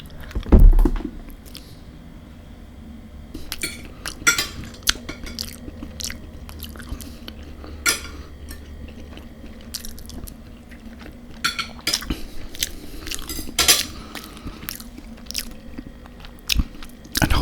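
Bacon, scrambled eggs and fried bread eaten up close, with crisp bites, wet chewing and cutlery clicking against a plate in an irregular rhythm, no talking.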